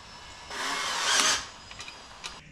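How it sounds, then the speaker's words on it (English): A small wrench turns a bolt on the bottom of a folding Adirondack chair, giving a burst of close metallic ratcheting and scraping that peaks and fades, followed by a few light clicks. "Do the same thing with the little wrench and tighten her up."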